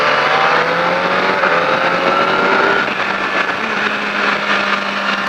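A loud motorcycle engine roars steadily on a track, its pitch shifting as it revs and slows, with no voices.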